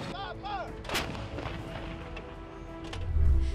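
An M777 howitzer fires in a sharp, cracking report early on, then a deep, heavy boom follows near the end. Loud, with a rumbling background between the blasts and no voices.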